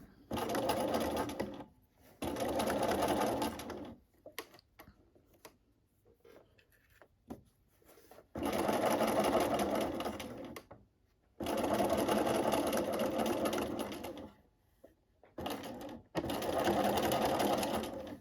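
A sewing machine stitches fabric for a reinforced slit in several long, steady whirring runs broken by pauses and faint handling sounds.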